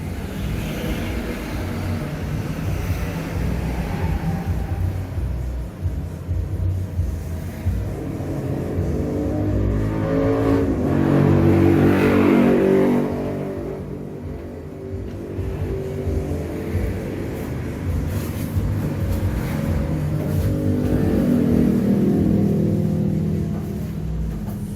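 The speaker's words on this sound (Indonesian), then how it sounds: "sekarang printer ini sudah mompa" An Epson printer runs its pump as ink is drawn into the system during setup, giving a continuous mechanical whir and hum that swells twice to louder stretches.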